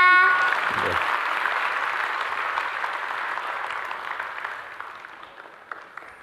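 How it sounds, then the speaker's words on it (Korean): Audience applause at the opening of the 2025 Korea Local Era Expo as a government minister is welcomed to the stage, a dense sustained clapping that starts strong and slowly fades over several seconds. "모두 큰 박수 부탁드립니다"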